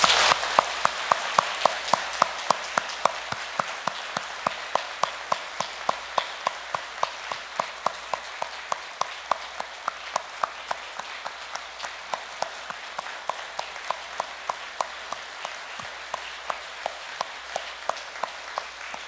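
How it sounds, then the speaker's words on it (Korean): A church congregation applauds steadily at the first service in a new sanctuary, a dense wash of many hands with a regular rhythmic beat running through it, sustained and even, with no talking over it. "우리 예배를 받아주시는 주님 앞에 영광의 박수를 올려드립시다"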